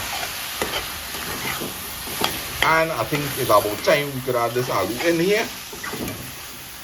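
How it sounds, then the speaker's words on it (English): Outdoors, a pot sizzles steadily in the background while someone talks over it, with some stirring and clinking of utensils. "And the pot is sizzling."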